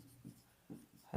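Marker or pen writing numbers on a board during a math lesson, a few short scratchy strokes in quick succession, close and quiet, with no talking.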